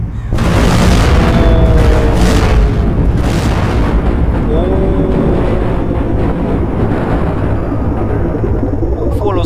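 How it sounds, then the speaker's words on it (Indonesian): A loud, sustained roar of booming blasts with deep rumbling and crackling debris, dense and continuous throughout, from a large explosion in the video game The Walking Zombie 2. "Lihat itu ledakannya loh"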